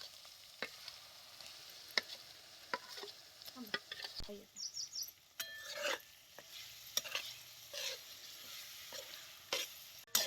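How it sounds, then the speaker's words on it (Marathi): Curd being stirred into hot oil in a pot over a wood-fired chulha, with soft scraping strokes and a faint sizzle at close range, among scattered clicks and knocks, and no talking. "दही बी तेलात चांगलं हलवून घ्यायचं."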